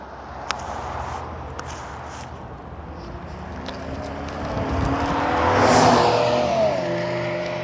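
A speeding car passes on a road beside a hybrid bicycle, growing from a distant rumble to a loud close whoosh around the middle and fading away, over steady wind and road noise.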